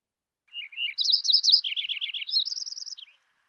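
Song of a Lincoln's Sparrow, a clean recording of a lively, gurgling run of high warbled and trilled notes rising and falling over roughly two and a half seconds, alone against silence.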